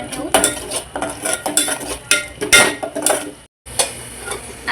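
A spatula clatters and scrapes busily as a masala with turmeric and red chili fries in oil, with fast irregular metallic clicks over a faint sizzle and a brief pause near the end.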